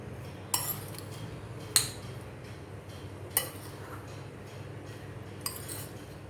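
Spoon clinks against a bowl while bhel, a no-cook puffed rice chaat snack, is mixed, giving a few sharp, sparse metallic taps over a quiet, steady background.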